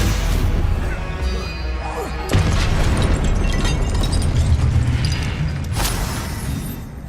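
Spell-casting effects in Hogwarts Legacy, loud magical blasts and crashes layered with whooshing bursts, one sharp surge midway and another near the end.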